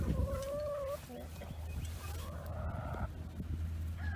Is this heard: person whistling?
no